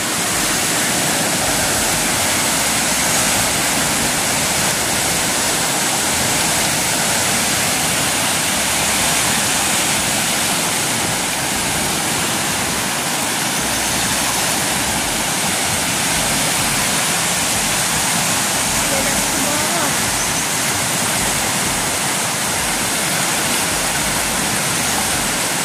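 The flooded Piñan river rushes past in a loud, unbroken roar of churning water, dense and constant with no voices.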